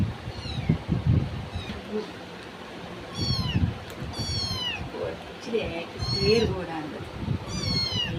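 A cat meows about five times in short, rising and falling cries spread across the stretch, while people talk nearby in the background.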